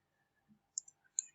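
A computer mouse clicks while operating econometrics software: a few faint, sharp, separate clicks in near silence, roughly a tap every fraction of a second.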